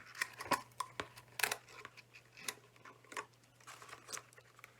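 Scissors snip and rustle through floral Mardi Gras decorations being cut off a Dollar Tree wreath, a few close, crisp clicks mixed with soft crinkling of the material and no talk.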